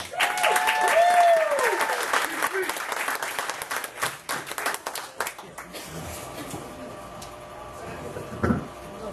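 Audience applause and cheering for a comedian at a Moose Lodge comedy show in Fairfield, loud and dense at first, then thinning out as a single voice comes in under the fading claps.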